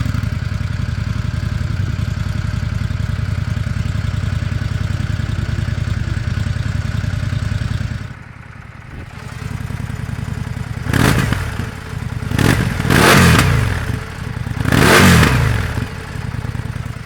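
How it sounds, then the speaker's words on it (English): An Indian 101 Scout motorcycle with its stock exhaust idles with a steady, loud, low rumble, then after a brief dip revs up in several sharp blips. "I don't think Indian Motorcycle tried very hard with the stock exhaust note"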